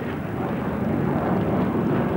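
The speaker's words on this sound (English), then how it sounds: "The aircraft is making a considerable impact at the show with the agility of its display routine" A Saab Gripen fighter jet flies a display routine at the Farnborough air show in 1992, a continuous broad engine roar at a steady level with no break.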